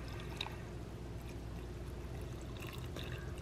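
Water pours steadily into an instant rice noodle soup cup, Mr Lee's Tai Chi Chicken, a soft continuous trickle close by, alone and fairly quiet.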